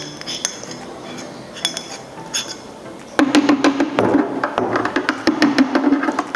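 A metal utensil scrapes leftover French buttercream from a mixing bowl, close up in repeated clinking, rasping strokes that grow louder and denser partway through.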